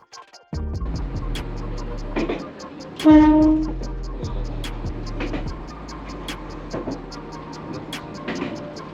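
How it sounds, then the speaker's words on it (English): A train in Japan rolls in with a low rumble and rhythmic clicking, then a loud horn-like blast and squealing brakes, with people talking faintly nearby. "Our train has arrived"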